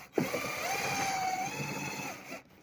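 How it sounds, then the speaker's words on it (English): A power drill whines steadily for a couple of seconds, its motor holding a high, even pitch before spinning down. "So I'm just going to drill my hole."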